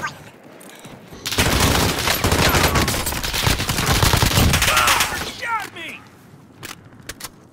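Dense, loud automatic gunfire from a battle-royale style video game rattles in sustained bursts for several seconds before tapering off into scattered shots.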